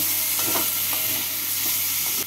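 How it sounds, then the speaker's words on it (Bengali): Boiled potato pieces being stirred with spices in a pan for a prawn-stuffed kakrol fry, steady sizzling throughout with a few soft spatula scrapes, close and fairly loud, no talking. "যেটাকে সেদ্ধ করে টুকরো করে নিয়েছি। মশলার সাথে নাড়াচাড়া করে নেব।"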